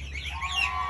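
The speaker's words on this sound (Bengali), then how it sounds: "এগুলো হচ্ছে মুরগি।" Chickens at a farm give a brief, nearby clucking and chirping call lasting about a second over a low background hum, with no voices.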